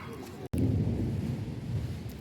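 Thunder rolls as a low, continuous rumble that stays loud and heavy across the whole stretch, broken by a brief dropout near the start, with no speech over it.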